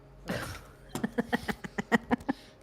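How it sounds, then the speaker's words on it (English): Garbage truck working outside a room, heard as a muffled whoosh followed by a fast series of about ten evenly spaced mechanical clanks and creaks, moderately loud. "There's a garbage truck outside here."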